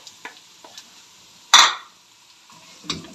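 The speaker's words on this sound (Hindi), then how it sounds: "इसके अंदर एक छोटा कटा हुआ प्याज डाल देना और अच्छी तरह से मिक्स करना है।" Chopped onion being stirred in a pan with ginger and garlic: soft, sparse scrapes and clicks of a utensil, then one louder scraping sweep midway, and a few lighter taps near the end.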